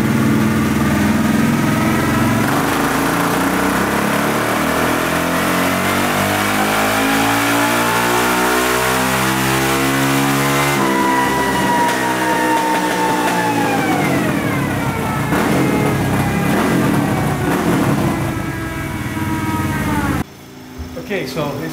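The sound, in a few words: Honda XR650 motorcycle engine revving during horsepower test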